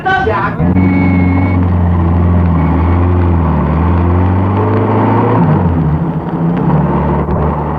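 Bus engine idling and rumbling steadily as a radio comedy skit sound effect, loud and continuous for several seconds, with voices talking over it.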